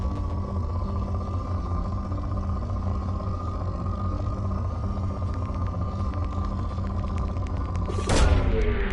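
A probe launch in the Mass Effect 2 video game, a continuous loud humming drone with low rumble, ending in a sudden whooshing burst as the probe fires.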